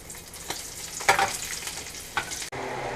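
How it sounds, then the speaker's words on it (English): Spanish mackerel refrying in hot oil, a steady close crackling sizzle broken by a few louder spattering bursts as pieces shift in the pan, with a brief dropout before the frying resumes. "So we're just going to add the Spanish mackerel back into the oil. We're just going to refry it for a couple minutes."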